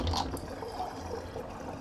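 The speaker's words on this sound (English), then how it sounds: "let me just drain my sink because I got some of those whiskers floating around in there" Water drains from a bathroom sink after a shave, a steady close gurgling rush that runs the whole time with no pauses and no talking.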